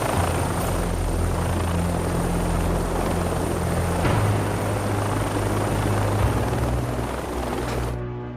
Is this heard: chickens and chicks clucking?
no